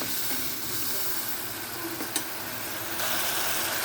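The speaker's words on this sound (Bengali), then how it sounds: "মশলাগুলোকে কষিয়ে নেব সামান্য একটু জল দিয়ে নেব দিয়ে এটাকে আবার ভালো করে একটু কষিয়ে নেব" Spice paste with chilli powder, being stir-fried for a potato, okra and raw chickpea dish, sizzles and hisses continuously up close, with one brief clink of a utensil partway through and a slightly louder surge near the end.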